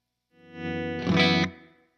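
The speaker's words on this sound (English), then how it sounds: "let me put a little reverb on here." An electric guitar through a Blackstar HT-20RH MkIII 20-watt amp head with reverb added, a single distorted chord swelling then a brighter strum, ringing out and decaying in a reverberant tail.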